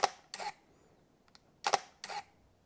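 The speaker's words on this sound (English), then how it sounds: "about the 50R is the shutter noise, and let's hear it" A Fujifilm GFX 50R medium-format camera fires its mechanical shutter at 1/4000 second, twice, each a crisp close double clack in a quiet room.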